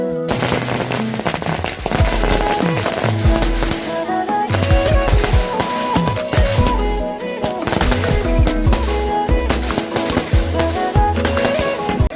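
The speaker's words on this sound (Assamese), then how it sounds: "বোমা মাৰি আছে পুৰা একদম" Rapid volleys of firecrackers explode loudly and continuously along a road during a village wedding procession, sharp bangs overlapping in dense crackling bursts over a noisy outdoor background.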